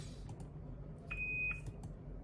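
A single short electronic beep sounds from iPhone memory upgrade equipment, thin and high-pitched, lasting about half a second over low background hum.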